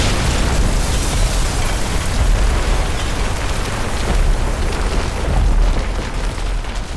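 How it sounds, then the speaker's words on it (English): Buildings blown up to contain a great city fire in New York: a dense, loud, continuous rumbling roar of explosions and burning, with no distinct pauses and no speech. "the firefighters started blowing up some of the buildings to contain the fire"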